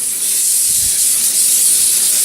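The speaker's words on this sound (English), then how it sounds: "we got the tinfoil out, and we're gonna spray this down with some Pam." Pam cooking spray sprayed onto a sheet of tinfoil: a steady, loud, close hiss that runs unbroken for a couple of seconds.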